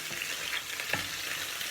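Artichoke hearts sizzle in a pan of hot oil just after a splash of water goes in, a loud steady frying hiss with a few sharp crackles and pops, close and without talk.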